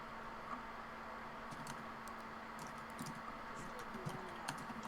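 Fingers type on a computer keyboard, a quiet, irregular patter of key clicks over a low steady background hum.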